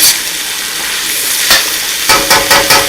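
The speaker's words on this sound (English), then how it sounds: "Nice big hot stir fry." Shrimp, chicken and vegetables sizzle loudly in a very hot pan, a dense close hiss broken by several sharp bursts as the food is tossed and stirred, no voices.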